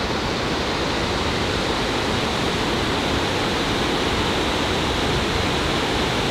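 Cameron Falls in Waterton Lakes National Park, a steady, dense roar of falling water, loud and unbroken throughout.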